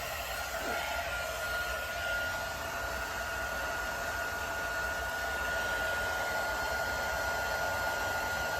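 Heat tool blowing hot air over an alcohol ink swirl tumbler in teal, aqua, gold and black, a steady broadband whoosh held at even loudness throughout with no break.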